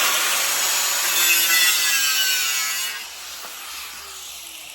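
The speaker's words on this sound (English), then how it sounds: "we're going to grind this one. I'm going to cut this one off" An angle grinder cuts through pallet wood close by, a loud, steady high-pitched whine and rasp that eases off near the end as the cut finishes.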